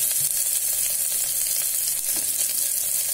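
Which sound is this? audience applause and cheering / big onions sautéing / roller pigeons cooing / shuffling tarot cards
big onions sautéing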